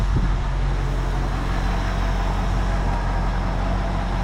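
A 1974 Ford Bronco engine idles steadily at close range, a constant low rumble running unbroken from start to finish with no talk over it.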